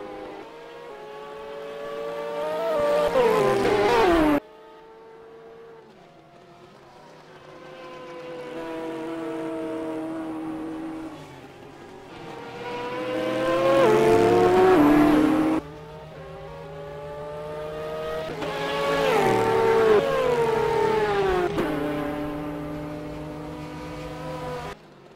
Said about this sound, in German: Jens Burkhardt ist mittlerweile die schnellste Rennrunde gefahren